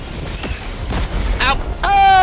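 Gunfire in Helldivers 2, with several booming shots and a loud burst near the end, mixed with a voice talking over the action and game effects, all close and loud.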